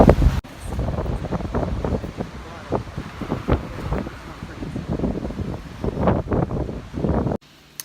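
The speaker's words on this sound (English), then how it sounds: "This wind is so crazy today. It's like pushing me up and down the street." Strong wind on a street in Malta, heavy blustery buffeting that roars against the microphone in loud, uneven gusts, with faint rustling beneath and no clear speech.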